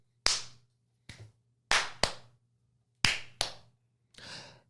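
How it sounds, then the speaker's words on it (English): Podcast hosts clap their hands in a loose run of seven sharp, fairly loud claps with uneven spacing, the last one softer and smeared, over a faint steady hum with no talking. "we always start with the clappy claps."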